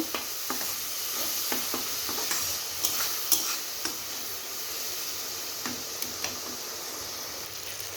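Dry red chilli powder and cumin powder being stirred and fried in a pan for a hotel-style cabbage, carrot and pea bhaji, with a steady soft sizzle and scattered scraping ticks of a spoon, alone and close.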